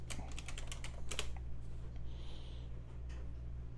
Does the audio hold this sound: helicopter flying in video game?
no